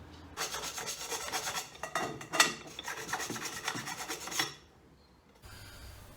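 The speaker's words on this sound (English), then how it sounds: "Then it's just a question of taking a file, bit of sandpaper, and just taking off any edges." Repeated rasping strokes of a file scraping across wood, close and steady, ending in a brief pause followed by faint low rumble.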